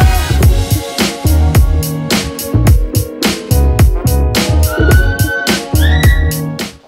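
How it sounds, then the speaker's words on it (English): A child sings high, sustained notes in the background, rising twice near the end over loud, steady, drum-heavy music that plays throughout. "That high-pitched noise you just heard in the background was my daughter singing."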